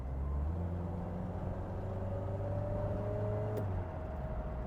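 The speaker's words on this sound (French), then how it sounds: "Mais le moteur est amplement suffisant." A 1985 Citroën CX Pallas engine running steadily as the car accelerates, a continuous low drone with a gradually rising tone, heard from inside the car with no talking.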